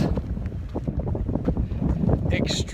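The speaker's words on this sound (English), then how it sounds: "extremely windy right now." Strong wind buffets the microphone outdoors with a steady, gusty rumble that runs through the whole stretch, with a brief brighter hiss near the end.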